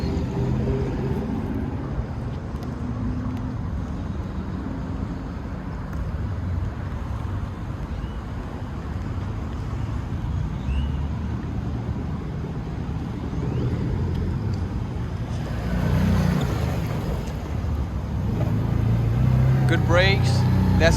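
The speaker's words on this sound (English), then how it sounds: "those twin brother muffler, that's pretty loud" Aodes Sportcross 1000 UTV engine rumbles steadily through twin mufflers, a loud continuous low drone that swells near the end as the machine moves off-road, with someone talking over it.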